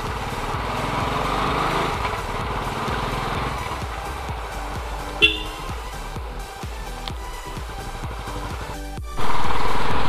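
A motorcycle engine drones steadily while being ridden on a trip toward a hill station with a passenger on the back, the note rising and falling with throttle, a few knocks midway, and louder wind rush near the end.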